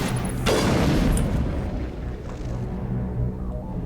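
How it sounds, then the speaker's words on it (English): A heavy gun in the sci-fi game Mass Effect fires one booming, explosive shot with a deep roar that trails off into a low rumble, loud and close. "Man, this gun is real powerful"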